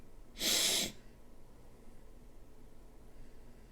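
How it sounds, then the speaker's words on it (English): A single short, forceful snort of cinnamon candy up the nose, a close breathy burst lasting about half a second, followed by quiet. "You just snorted cinnamon, didn't you?"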